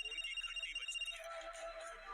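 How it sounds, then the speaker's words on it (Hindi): A phone rings in a short electronic tone pattern, fairly quiet, with a faint voice underneath. "फोन की घंटी बजती है।"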